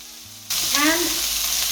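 Onions drop into hot oil with a sudden loud sizzle that settles into a steady, close frying hiss.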